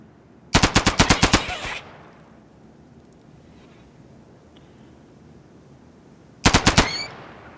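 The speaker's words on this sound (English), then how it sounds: "You have a crazy machine gun. I need you to use it." Machine gun fire in the video game RimWorld: a rapid burst of about ten sharp, loud shots, a quiet gap, then a shorter burst of five or six shots, with no talk.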